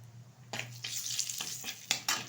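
Black cumin seeds and turmeric sizzle in hot oil in a pan while a utensil stirs them, giving a steady frying hiss broken by several sharp scraping bursts, close up and with no talk.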